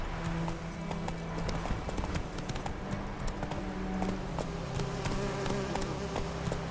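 Hooves of the horse Roach galloping in The Witcher 3, a quick repeated clip-clop rhythm up close over a steady background buzz.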